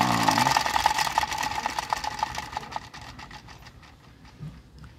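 A toy army helicopter's small electric motor runs with a rapid mechanical whir and rhythmic clicking, loud at first and then gradually slowing and fading, with no one speaking.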